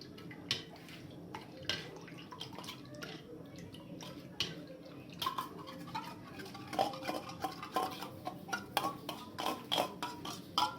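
A milk and flour mixture is stirred in a pan, giving soft scraping and clinking of a spoon against the metal at an irregular pace, close and fairly quiet, with little wet drips between strokes.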